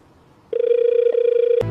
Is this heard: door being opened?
no